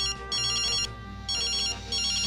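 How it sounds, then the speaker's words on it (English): Phone ringtone playing in repeated bursts of a bright melodic electronic tone with brief pauses between them, fairly loud and alone. "Whose phone is this?"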